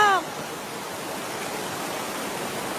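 River water flows steadily and fairly loudly as an even, unbroken rushing hiss, after a brief tonal sound at the very start.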